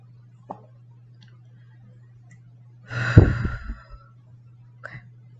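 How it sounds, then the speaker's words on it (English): A single person's breath released during a yoga breathing exercise, a short airy exhale swelling up at the middle and fading within about a second, close and alone over a steady low hum, with faint clicks before and after. "So let me just do my own little exhale."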